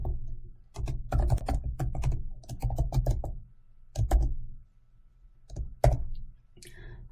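Typing on a computer keyboard while entering a web page meta description: bursts of quick, close key clicks separated by short pauses, with no talking.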